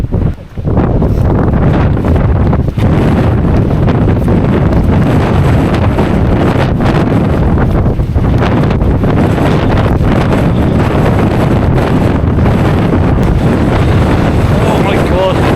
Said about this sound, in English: In case you couldn't tell, it's quite windy.